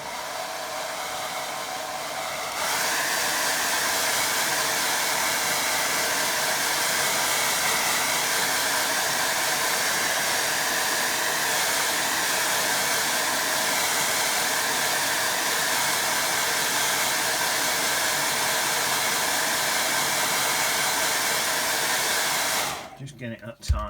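A hair dryer blows steadily at close range over a watercolour painting, a loud, even whoosh that runs almost the whole clip after a brief quieter start and then cuts off at the end.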